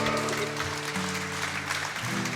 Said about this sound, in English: give yourselves a round of applause on that one.